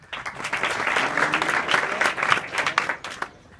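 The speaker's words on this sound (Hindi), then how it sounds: "उनके लिए पहले जोरदार ताली बजाओ।" Loud clapping from a room of students in a coaching class, a dense burst of many hands that swells for a few seconds and then tapers off.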